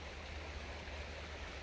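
Steady, soft rushing of a flowing creek, an even broadband wash with no breaks.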